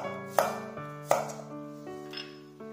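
A knife slices ginger and garlic cloves on a cutting board, with two sharp, clear cuts early on and a fainter one later. A steady musical tone carries on underneath, and nobody speaks.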